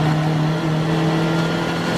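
Race cars from a 750MC Roadsports race, including TT TDIs, roar past down the start-finish straight at Snetterton circuit, a loud, sustained engine tone with a steady high pitch and no talking.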